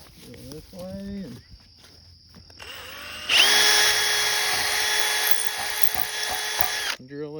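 Power drill boring holes while fitting an electric fence gate, a loud steady whine running continuously for about three and a half seconds after some brief sounds and a faint voice beforehand.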